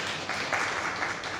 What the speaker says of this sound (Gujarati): આપણે તાળીથી અમને વધારી દઈએ પહેલાં તો.